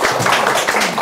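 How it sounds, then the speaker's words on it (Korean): Applause from an audience at a live political talk show in Daegu, a dense burst of clapping over about a second. "박수 한번 쳐주십시오."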